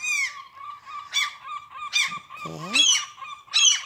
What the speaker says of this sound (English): Oh, I think I got an angry bird here.